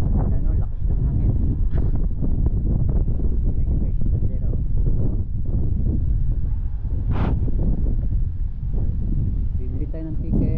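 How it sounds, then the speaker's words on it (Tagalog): Strong gusts batter a microphone outdoors near a metro ticket stop, a loud, continuous low rumble and buffeting that fills the whole stretch, with people talking faintly underneath. "lakas ng hangin"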